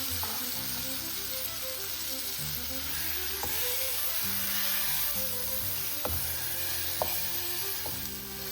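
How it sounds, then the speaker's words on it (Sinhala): Chickpeas with a little water sizzle steadily in a hot pan for Indian poori's accompaniment, a close, constant frying hiss with a few sharp stirring clicks, while soft background music plays beneath. "කඩල ටික එකතු කරලා කලවම් කරලා වතුර ටිකක් එකතු කරලා පැන්දෙන්න තියනවා"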